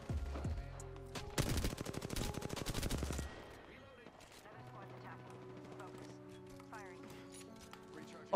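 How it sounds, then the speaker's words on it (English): Rapid Apex Legends gunfire rattles in a quick burst of closely spaced shots early on, then fades into quieter game sounds while players talk. "I just got sniped from half a mile away"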